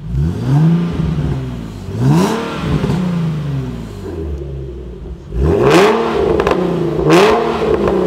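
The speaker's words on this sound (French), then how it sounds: "Je mets quelques coups de gaz et on voit." A Volkswagen Golf 2 GTI 16v engine revs up and down several times while idling nearby, each blip rising and falling in pitch, loud and clear.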